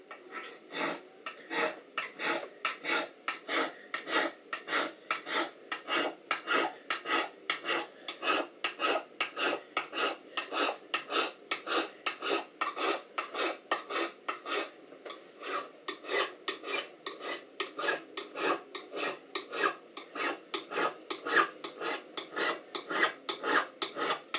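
Steady, even back-and-forth rasping of a file smoothing guitar fret ends in a workshop, close and loud, with dense repeated strokes throughout and no talking.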